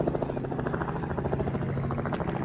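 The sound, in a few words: helicopter flying overhead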